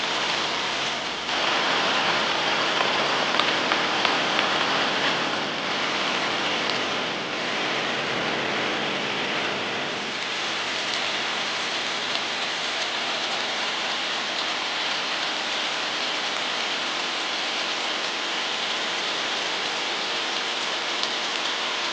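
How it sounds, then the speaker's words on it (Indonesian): Steady rain pours down inside a protected mountain forest, a dense, even hiss of drops on leaves and ground that holds constant and fairly loud throughout, with no voices. "terjebak hujan Lur di dalam hutan lindung ya."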